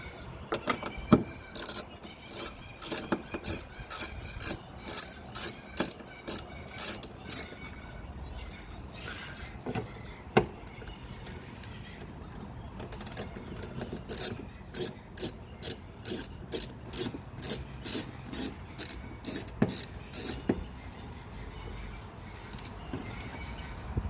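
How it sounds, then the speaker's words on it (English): A 10mm socket wrench ratchets bolts on a Lexus IS200/IS300 in quick bursts of sharp clicks, pausing between strokes, close and fairly quiet against light background wind. "you can either use a 10mm socket wrench or a Phillips head screwdriver to open these bolts."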